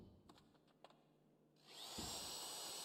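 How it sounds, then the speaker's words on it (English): Drilling equipment in a GTA Online heist: a few soft clicks and taps, then a loud, high-pitched drill whine kicks in and holds steady to the end. "A little race on the drilling here."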